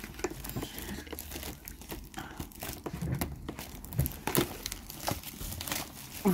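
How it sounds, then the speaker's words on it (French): Crinkling and crackling plastic packaging as a Pokémon box is cut open with small scissors, with steady rustling and a few sharper snips and crunches close by. "Du coup, on va ouvrir ça. Bien sûr, j'ai pris mes petits ciseaux."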